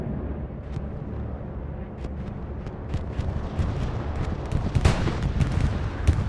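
Bombing-run explosions in the video game Hell Let Loose on the Kharkov map, a steady low rumble of distant blasts with sharper thuds and crackling impacts building toward the end, continuous throughout.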